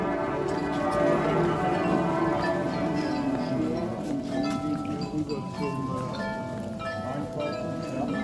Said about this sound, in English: a crowd of about 150 people have come here to see the daily chiming of the Carillon on Butterstrasse